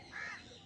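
A single harsh, raspy squawk from a macaw at a bird park rises and fades within half a second. The call is fairly faint, with no talking.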